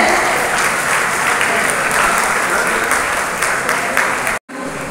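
Loud, sustained applause from a crowd at a HelpAge India event for the International Day of Older Persons, steady for several seconds before cutting off abruptly near the end.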